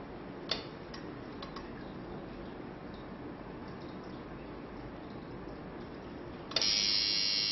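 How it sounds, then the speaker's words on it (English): A tattoo machine powered at 4.8 volts stays quiet through steady background hiss with a few faint ticks, then kicks into a loud, even electric buzz for the last second. "you will hear the tattoo machine working correctly, and it's all powered up"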